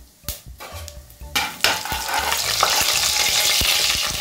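Whole fennel seeds, cloves and a small piece of cinnamon hit hot oil for a Tamil hotel-style chicken gravy, a sharp sizzle that swells and holds steady, broken by the scrape of a stirring spoon against the pan.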